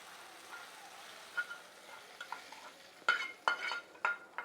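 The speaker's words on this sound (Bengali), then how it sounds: "এখন আমি এটার মধ্যে ফোড়নটা ঢেলে দিব।" Hot spice tempering poured into a curry, heard as quiet background frying with a series of sharp stirring and spoon clatters growing louder toward the end, close by, with no voices.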